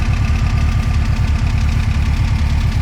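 A hot rod's engine runs loudly up close at a steady, lumpy idle with a rhythmic knocking pulse, alone without any voices.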